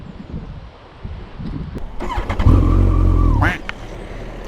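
A Kawasaki ZZR1400 (ZX-14R) sport motorcycle engine idles, then revs up loudly as the ride begins, a rising close roar that holds for about a second before dropping back to a lower rumble.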